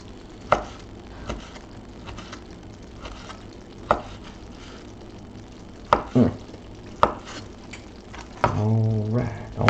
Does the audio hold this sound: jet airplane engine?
no